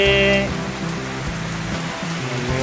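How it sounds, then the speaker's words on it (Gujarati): Steady monsoon rain hisses in the background under voices and a droning hum, in Gujarat. "વરસાદ ચાલુ થઈ ગયો છે."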